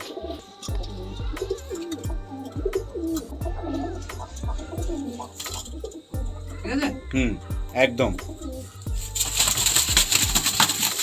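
Madrasi pigeons coo repeatedly at close range in soft rolling phrases, with someone talking over them throughout and a burst of rustling noise near the end.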